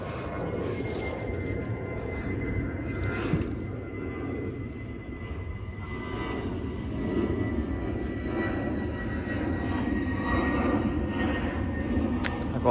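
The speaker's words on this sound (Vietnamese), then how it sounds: "Có cái máy bay nó bay qua các bạn, em sẽ dừng lại một chút" A fixed-wing airplane flying over a coffee plantation, its engine a steady distant roar that swells and fades slowly over several seconds beneath outdoor ambience.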